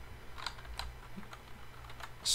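Quick, light keystrokes on a computer keyboard while a Linux command is entered, with soft scattered taps over a quiet hum and a sharper click at the end.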